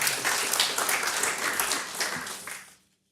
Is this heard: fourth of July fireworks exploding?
no